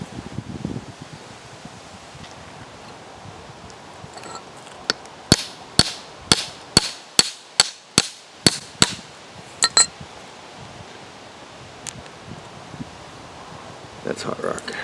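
A hammer striking a silver plate vein in host rock on an anvil, about a dozen sharp metallic blows in a steady quick rhythm, close and loud, with quieter handling noises before and after.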